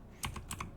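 Two quick pairs of clicks come from a computer keyboard as the R key is typed, light and close in a quiet room.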